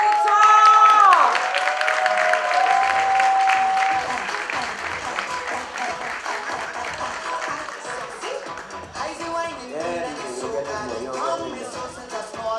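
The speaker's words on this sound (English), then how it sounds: "One more time, round of applause, ladies and gentlemen, for our winner." At the 2018 St. Lucia Industrial and Small Business Awards, a ceremony crowd applauds the small-scale manufacturer of the year in fashion and design. Loud clapping opens over a brief musical fanfare, then continues more loosely with voices mixed in.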